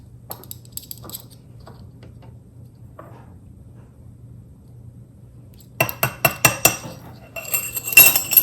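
A spoon clinks briskly against a cup, mixing coconut cream and almond milk into a protein drink; after a few faint taps, a quick run of sharp, close metallic clinks comes in the final seconds.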